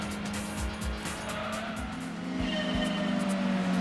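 Race cars and squealing tires from a Gran Turismo 2 replay, a video game: engines drone steadily while tires screech and skid across several seconds at moderate loudness, no voices.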